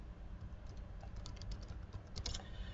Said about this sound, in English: try to keep typing as much as you can